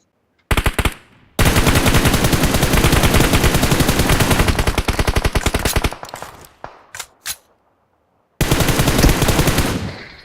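Rapid machine gun bursts in a 2v2 video game shootout, loud and close: a short burst, a long sustained stream of fire, scattered single shots, a pause, then another heavy burst.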